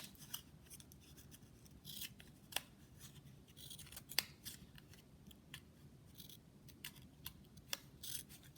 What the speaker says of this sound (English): you get your scissors and cut off the excess